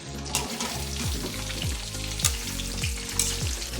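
Hotdogs fry in a pan of oil with a loud continuous sizzle and crackle, joined by occasional scraping stirs, heard up close with no voices.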